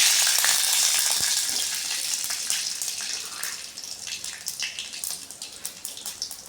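Mustard seeds, cumin and dried red chillies are tempered in hot oil for a drumstick-leaf chutney, a loud rushing sizzle at first that settles into quicker crackling pops as the spices splutter.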